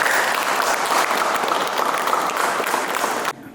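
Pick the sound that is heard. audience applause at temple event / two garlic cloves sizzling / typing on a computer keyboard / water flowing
audience applause at temple event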